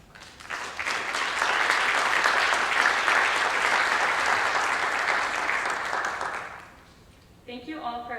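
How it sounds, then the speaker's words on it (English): A crowd at an NHS induction ceremony applauds, loud and dense, swelling quickly, holding for several seconds and then fading, before a voice starts speaking at the end. "Please join me in thanking them with a round of applause"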